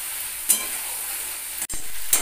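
Two whole green chillies hit hot mustard oil in a pan and set off a bright, crackling sizzle. A short, sharp clatter comes near the end, then the frying continues up close with no talking.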